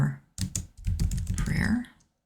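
Rapid keystrokes on a computer keyboard, a quick burst of clicks entering a short label in a design layout, close and clear with no talking.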